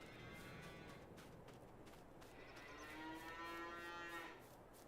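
Cattle in a cow pen in Farming Simulator 22, on the Westby, Wisconsin farm map, let out moos over a faint ambient background. One drawn-out low call stands clearly above the rest.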